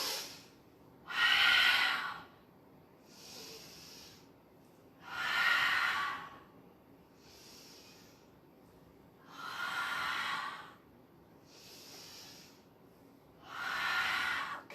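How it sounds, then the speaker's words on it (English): Deep, forceful breaths during a Spinal Flow breathwork exercise, heard up close as a slow rhythm of strong rushing breaths alternating with softer ones, about seven in all, with no talking. "10 more seconds. Deepen the breath."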